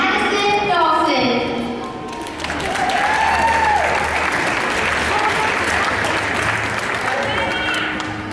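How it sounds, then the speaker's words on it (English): Applause from a pageant audience honoring a young contestant in the top ten of a children's pageant, a steady wash of clapping held throughout with voices and an announcer audible over it. "Big round of applause for contestant number 16, Madison Dawson."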